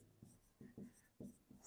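A pen scratches on paper during a math lesson, in short quiet bursts of strokes with brief pauses between them, and no voices.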